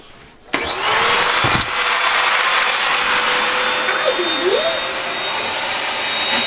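Vacuum cleaner running beside a guinea pig cage during spot cleaning, a loud steady close whine that starts abruptly after a click, with a brief knock and a faint high tone sweeping underneath.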